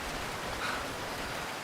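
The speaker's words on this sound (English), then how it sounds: "That is the sound of thousands of steel bodkin points striking French armour at once." Thousands of steel bodkin arrow points strike French armour at once, a dense, even hiss of countless tiny impacts like heavy rain on metal, steady and fairly faint throughout.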